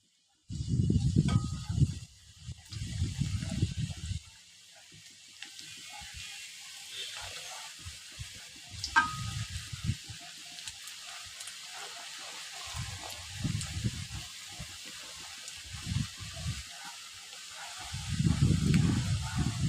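Nimki, a flour snack, deep-frying in plenty of oil in a wok over a medium flame: a soft, continuous hiss underneath, with muffled voices coming and going over it.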